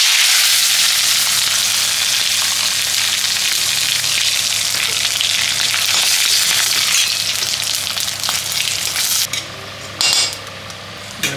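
Whole bay leaf, cumin, cardamom, cinnamon and cloves crackle in hot oil, a loud, close, dense sizzle that runs steadily and then dips briefly near the end, with no talking.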